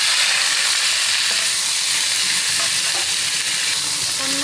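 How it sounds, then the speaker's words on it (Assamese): Pork fries in a wok over a low flame with a steady, loud, close sizzle and hiss, broken only by faint stirring clicks, and no one speaks. "অকণমান ফ্ৰাই হোৱালৈকে ভাজিছোঁ"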